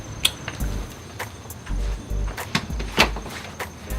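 A front door is handled with several sharp clicks and knocks of the lock and latch, followed by low thuds and rattles as it swings open, close and fairly loud with no talking.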